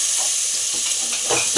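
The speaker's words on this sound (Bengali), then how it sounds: "ভালো করে আমি কষিয়ে নেবো সব কিছু মশলা। আমি দিয়ে দেবো টমেটো কুচি দিয়ে দেবো।" Spices and chopped tomato stirred and frying in a pan for a Bengali potol chingri curry, a loud close continuous sizzle with scraping stir strokes.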